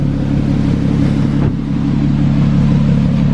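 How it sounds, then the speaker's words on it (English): A Lotus Evora sports car's engine runs loud and close with a steady, sustained drone, with no voices over it. "We got Sean in the Lotus Evora."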